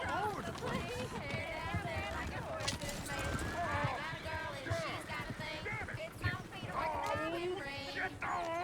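Horse hooves clip-clop steadily around a coach in Red Dead Redemption 2, beneath a busy mix of shouting voices and background commotion, the galloping rhythm continuous throughout.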